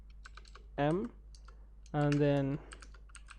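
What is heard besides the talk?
typing on a computer keyboard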